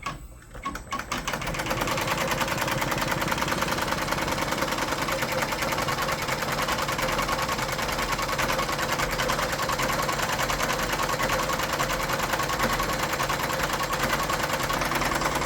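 A Happy embroidery machine stitches the satin border of a patch, a loud, steady mechanical whir with rapid needle chatter that runs without a break after a brief quieter start.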